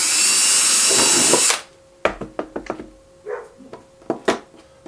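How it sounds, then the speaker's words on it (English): A power drill bores a bottom hole through an X-wing helmet during assembly, whining loudly and steadily for about a second and a half before stopping, followed by several sharp handling clicks and knocks. "So now I'm going to drill this bottom hole."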